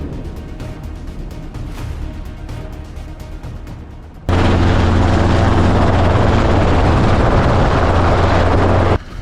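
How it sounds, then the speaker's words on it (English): Helicopter flying over wild boar hunting grounds, a loud steady rotor and engine roar that starts abruptly partway through and holds constant, preceded by quieter ambient noise. "The helicopter is equipped with an advanced observation system that helps hunters quickly locate large numbers of wild boars."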